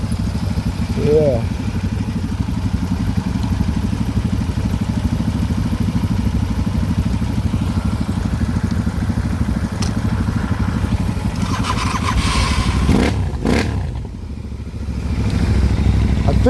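A motorcycle engine idles with a steady low thump, then revs up sharply a couple of times near the end, with a brief word spoken.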